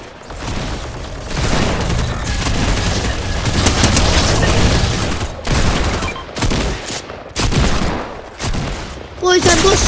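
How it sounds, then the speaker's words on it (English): Rapid sustained minigun fire in Fortnite, dense loud bursts that rattle on for several seconds, break into shorter choppy volleys, then cut off near the end. "All we need is this minigun."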